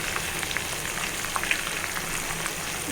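Chicken pakodi frying in hot oil, a steady, rain-like crackle and sizzle with small scattered pops, moderately loud and unbroken.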